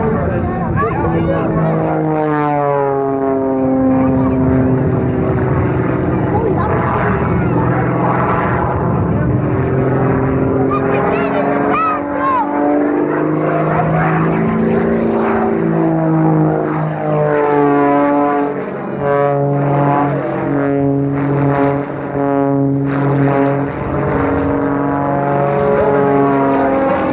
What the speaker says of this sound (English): He'll pull the aircraft up, roll it upside down, in a full roll and a half to inverted